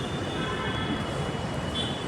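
Rumbling metro train running steadily throughout, a broad low roar with a faint high whine from the rails, heard from inside or alongside the carriage with no talking.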